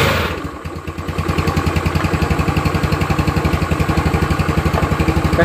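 A motorcycle engine fitted with a Tiger or NMAX regulator-rectifier cranks and catches, then settles into a steady, close idle with an even pulsing beat and no voices.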